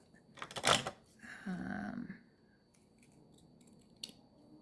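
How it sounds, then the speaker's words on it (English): Scissors snip close by with a quick cluster of sharp crisp cuts, followed by a rougher cutting rasp and a faint later click, in an otherwise quiet room. "Yeah, I'm going to have to cut this part."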